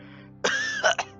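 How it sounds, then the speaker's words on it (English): An old engine character in a Roblox story coughs: one harsh, throaty cough with a couple of quick follow-up hacks, loud and close. "The old engine coughed and brought Oliver's attention back."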